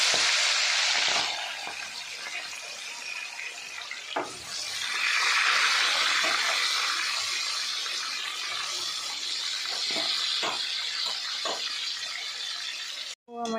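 Vegetables with beans fry in hot oil with a continuous sizzling hiss, broken by a few stirring scrapes and brief clatters, swelling louder partway through.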